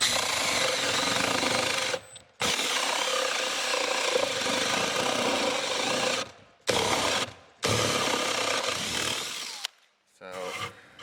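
A 50mm Famag Bormax Forstner bit bores a test hole through plywood, a loud continuous grinding drill roar running most of the time, broken by a few short pauses before the bit cuts through and stops.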